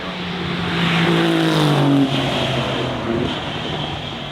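A hypercar accelerates at a demonstration run, a loud rising engine note swelling then easing, heard alone without talk.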